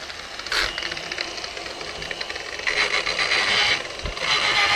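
An Interskol UMP 180 electric polisher runs at a steady low speed of 400 rpm, giving a continuous motor whir with a faint rhythmic rattle and a couple of brief knocks, heard close up without talk.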